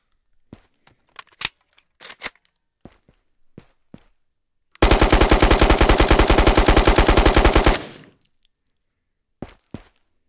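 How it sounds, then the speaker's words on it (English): SCAR rifle in the video game Ghosts of Tabor, a single loud, fast sustained burst of automatic fire lasting about three seconds, with scattered clicks and handling noises before and after. "next up we've got the Scar"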